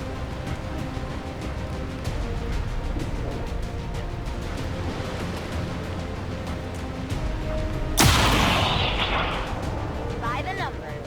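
A single loud sniper rifle shot cracks out late in a turn-based XCOM 2 battle, sharp and booming with a brief ringing tail, over a low steady game ambience.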